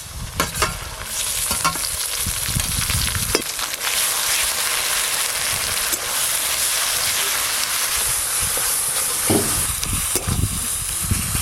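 Ground gourd leaf paste hits a hot frying pan with slit green chillies, giving a steady, close, loud sizzle and hiss, stirred throughout with a few scraping knocks of the spatula against the pan.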